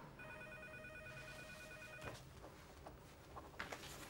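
Telephone ringing in a French office scene, a ring of roughly two seconds heard softly under room noise, followed by handling sounds.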